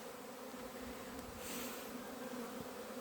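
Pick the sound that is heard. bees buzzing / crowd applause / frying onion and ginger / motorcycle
bees buzzing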